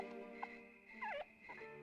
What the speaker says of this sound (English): we chase the boy up this hill until we hear the sound of a dog whimpering